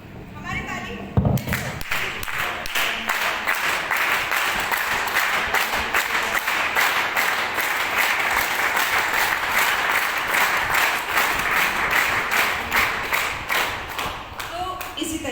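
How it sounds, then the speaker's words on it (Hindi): Audience members clap continuously together as an acupressure exercise, a dense, steady patter of many hands held evenly for the whole stretch, with a voice talking over it. "तो तालियां आपको ऐसी कंटिन्यू बजानी है"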